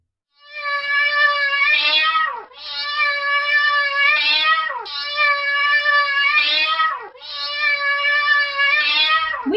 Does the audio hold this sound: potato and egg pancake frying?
no